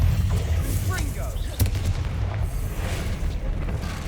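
A Confringo fire spell blasts out in Hogwarts Legacy, a sharp booming burst rising out of a dense, rumbling game soundscape with a voice talking over it.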